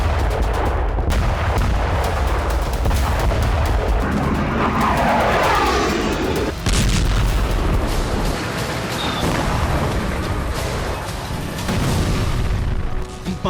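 Dense, continuous roar of war footage from Russia's Kursk region, with booming blasts, gunfire-like cracks and rumbling artillery fire layered under a loud, unbroken din, with no clear pauses.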